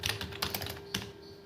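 Fingers type on an RPM Euro gaming keyboard beside an Acer Nitro 5 laptop, a quick burst of crisp, close key clicks that thins to a few isolated taps, with a faint steady hum underneath.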